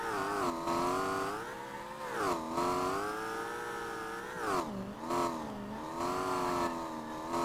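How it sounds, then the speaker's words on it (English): A V8 engine swapped into a Nissan S13 revs in the driving game SLRR, a loud, continuous engine tone that climbs and dips repeatedly as the throttle rises and falls, with no talking over it. "This is a much better engine."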